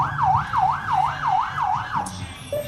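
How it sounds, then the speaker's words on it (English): An emergency vehicle siren wails at an Oktoberfest parade in a steady up-and-down rhythm, loud and close, cycling about six times before cutting off. "They're just playing with the siren"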